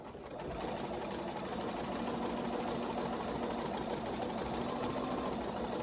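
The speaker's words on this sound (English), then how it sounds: "This is just a straight stitch that's going down." A Bernina sewing machine with a 71 foot sews a straight stitch along a quilt binding, making a steady, even mechanical whir that runs uninterrupted for several seconds at moderate volume.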